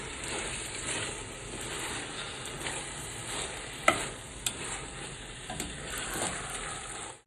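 Continuous stirring of chicken biryani gravy with tomato pieces in a pot, a steady sizzling scrape with a few sharp clinks of the spoon against the metal, heard close and alone.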